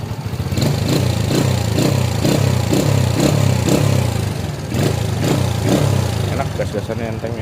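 Modified Suzuki Supra V motorcycle engine being revved in a series of short throttle blips over a rough idle, close and fairly loud, with a person's voice briefly in the background.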